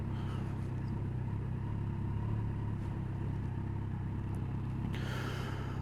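A car heard from inside another vehicle during an advanced driving session: a steady low road and engine rumble runs throughout, with a brighter swell of an approaching vehicle near the end.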